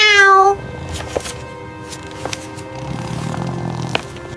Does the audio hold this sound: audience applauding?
no